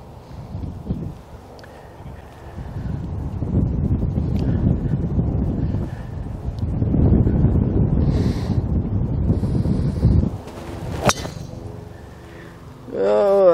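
An easterly wind on a golf course buffets the microphone in a loud, steady rush that swells and eases, with a few brief knocks near the end.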